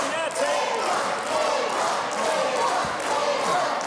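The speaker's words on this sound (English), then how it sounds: "the crowd really trying to get behind Edward Ripper" A wrestling crowd at a Fight Factory show roars steadily in support of Edward Ripper, who is trapped in a chin lock. The dense cheering runs throughout beneath a commentator's voice.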